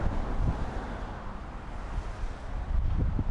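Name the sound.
wind blowing during outdoor drone flight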